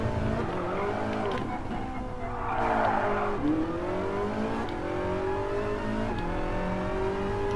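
Ferrari 458 tuned to 900 hp, engine revving hard and climbing in pitch through several upshifts, with brief drops at each gear change and a passage of tire noise. Loud, close and continuous.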